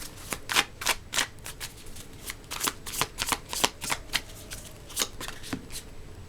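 A tarot deck being shuffled by hand, a steady run of crisp riffling card snaps close by with short pauses between bursts, no voices.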